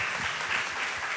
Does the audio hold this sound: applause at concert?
yes